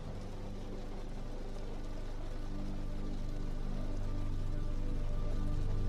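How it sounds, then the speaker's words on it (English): Rain falls steadily against a window in a dense, even hiss of tapping drops that slowly swells louder, with no voices. "you only attend to the sound of the rain in helping you into sleep"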